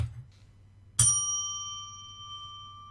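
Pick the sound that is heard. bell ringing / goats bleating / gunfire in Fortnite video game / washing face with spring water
bell ringing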